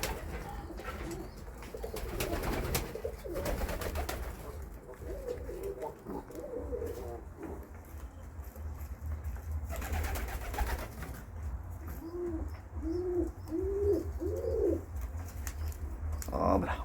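Pigeons coo in soft repeated rolling calls near a loft, with a steady low rumble behind them and a voice talking at times.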